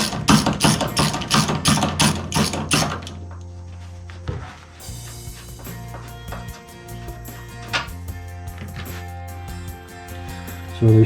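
A ratchet with a 1/2-inch socket clicks in a quick rhythmic series of loud ratcheting strokes while removing shock bolts on a 1966 Ford Mustang, then gives way to quieter metallic handling and clinks.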